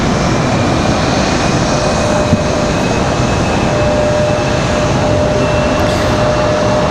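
A Republic Airways Embraer E175 jet airliner departs Raleigh-Durham for LaGuardia with a steady, loud engine roar and thin whining tones held throughout, no voices over it.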